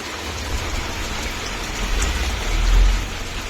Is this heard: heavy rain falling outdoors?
yes